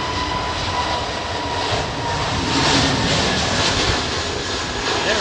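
An airliner departing Heathrow in strong wind roars steadily and loudly with broadband engine noise throughout, swelling slightly midway, with gusty wind blended in and no voices.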